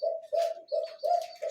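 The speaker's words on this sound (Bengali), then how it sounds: "দেখতে পাচ্ছেন এখানে এক জোড়া ঘুঘু পাখি আছে" A dove of a pair kept for sale coos in repeated low, soft hoots, four or five in quick succession, close by and clear with no talk over them.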